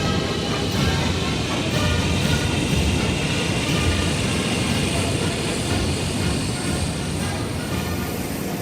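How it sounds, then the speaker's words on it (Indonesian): Russian fighter jets fly over Red Square in Moscow during the Victory Day parade, a loud, continuous roaring engine wash that fills the whole stretch without breaks. "Jet tempur Rusia melakukan manuver spektakuler di atas Lapangan Merah Moskwa"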